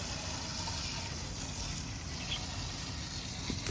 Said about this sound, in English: So I just used garden hose, and I also took the canister out to rinse it off.